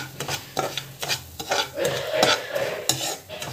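Dry semolina (rava) roasting in a pan for kesari, stirred with a spoon that scrapes and clinks against the metal in a steady run of close, crisp strokes with a light sizzle underneath.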